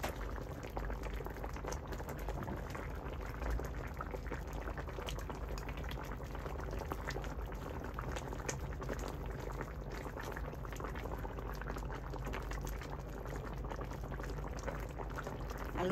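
Fish and potato curry with coriander leaves bubbles steadily in a pot, a continuous close boil of liquid that holds even and unbroken throughout.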